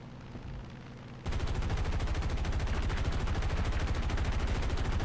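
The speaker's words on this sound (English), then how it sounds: "I use, these things called 50 cals to take him out of the battle" .50 cal machine guns in War Thunder break into sustained rapid fire after about a second of quieter engine drone, then keep up a dense, loud, continuous stream of shots until the end.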